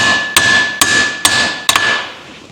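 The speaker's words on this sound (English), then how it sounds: "I shouldn't really be hitting this, but it's a brass hammer." A brass hammer strikes a metal shaft four times at a steady pace, each loud clang leaving a bright, sustained ringing tone.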